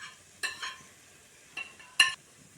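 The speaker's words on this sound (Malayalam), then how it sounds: "നന്നായിട്ട് ഇളക്കി യോജിപ്പിക്കണം." Ground fenugreek and asafoetida powders stirred in a pan, a few short, faint scrapes spaced apart against near silence.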